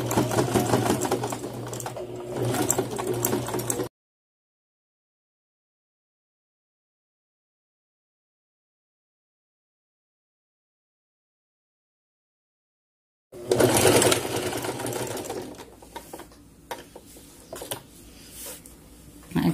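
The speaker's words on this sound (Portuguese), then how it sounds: "Vamos baixar e vamos fazer aqui nossa costura, tá bom? Devagarzinho, sem pressa." A domestic sewing machine stitching fabric with an overlock-simulating presser foot, a close, rapid mechanical whirring in two bursts separated by a long stretch of silence.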